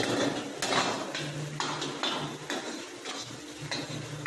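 Chow mein is tossed in a pan in a hotel kitchen, with repeated metallic clanks and scrapes of utensil against pan at an irregular pace over a background of kitchen noise and hiss.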